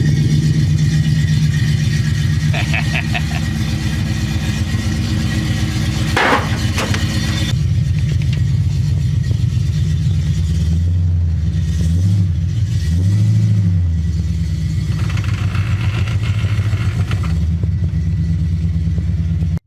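A classic car with an AMC 304 V8 and a converted 5-speed gearbox idles with a loud, lumpy rumble, then is revved in several rising and falling blips at a car show, close up with no talking.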